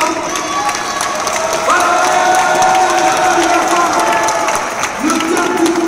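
A Christmas nativity event crowd in Provins cheering and clapping for the municipal wind band, under loud sustained tones from a band or sound system, with a voice speaking briefly over it.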